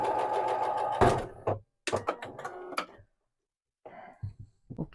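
A sewing machine stitches a dress in short bursts, a loud run of about a second, then several brief clicking stops and starts before a pause, with a softer burst near the end.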